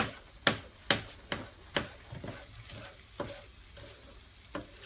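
Salmon cooking in a pan, heard as a string of close, crisp clicks and taps from a utensil against the pan over a faint sizzle, with no talking.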